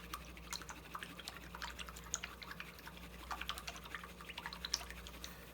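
A paintbrush is rinsed in water, producing faint, irregular light clicks and small drips, quiet and close, scattered in an uneven rhythm.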